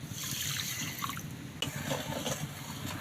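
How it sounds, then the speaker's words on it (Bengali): A bowl of water poured onto sugar in a kadai for syrup, a steady close trickle and splash that briefly shifts with a sharp knock midway, then continues. "সেই বাটির মাপ করেই এক বাটি জল দিয়ে দেবো"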